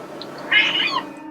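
A frightened, curious house cat lets out a single clear meow, fairly close and loud, rising and falling over about half a second against a quiet room background, with no talking.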